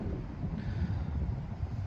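Wind gusting through an old graveyard, a steady low roaring buffet of air across the microphone, fairly quiet and continuous with no voices.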